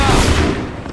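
Assassin's Creed 3 musket volley fired on command: a loud, crackling blast of many muskets together, fading through a second, with a sharp sound at the very end and battle shouts underneath.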